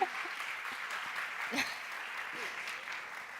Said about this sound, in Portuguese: Uma salva de palmas para a Irina.